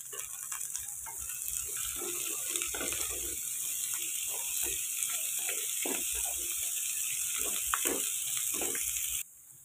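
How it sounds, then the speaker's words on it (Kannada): Beans fry with half-cooked onions in a pan, a steady bright sizzling hiss close by, punctuated by soft stirring scrapes, with no talking, ending in a sudden quieter tail. "ಬೀನ್ಸ್ ಹಾಕ್ಕೊಂಡು ಫ್ರೈ ಮಾಡ್ತೀನಿ."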